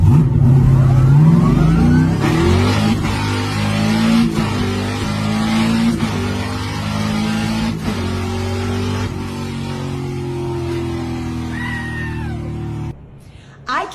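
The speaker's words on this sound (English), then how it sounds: "So if you like muscle cars and acceleration" Muscle car engine revving hard and accelerating, pitch climbing and dropping as it shifts through gears, loud and close for most of the run before cutting off near the end.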